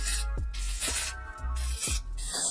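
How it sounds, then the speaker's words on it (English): Lace spray hisses onto the hairline of a body wave frontal wig in four short, close bursts, each a sharp airy spritz separated by brief pauses. "Some lace spray."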